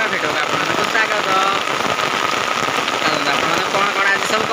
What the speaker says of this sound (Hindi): केते जोरे वर्षा।